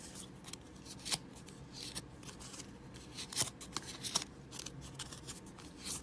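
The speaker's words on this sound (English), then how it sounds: "I'm just going to go along and just run the edge of my bone folder" Edge of a bone folder drawn along paper flower petals to curl them, producing soft, close scraping and rustling strokes in irregular short bursts, quiet and without talking.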